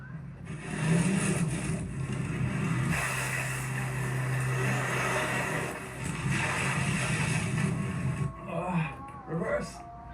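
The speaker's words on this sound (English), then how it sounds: "So the Land Rover has started. Blimey, got off like a rocket." A Land Rover Defender drives off-road, its engine a steady, loud rumbling drone with a brief lower hum midway, easing off near the end, while voices talk over it.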